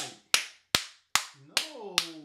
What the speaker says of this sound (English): I'm just clapping for it